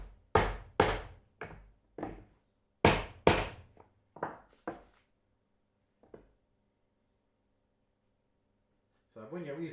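Hammer blows drive a nail into wood, about a dozen sharp, close strikes in irregular bursts that grow lighter and sparser, then fall quiet before a person starts talking at the end.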